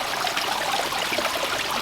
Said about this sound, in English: Here's the main spillway where the water is spilling into the pond.